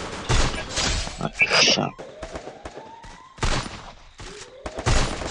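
M10 submachine gun fire in Free Fire comes as several sharp bursts separated by short gaps, loud and close, with voices talking between them.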